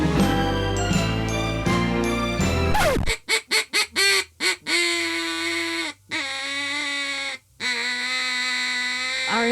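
A duck call sounds through a Christmas song, first over a full band, then in a run of short quacking honks between pauses, loud and close.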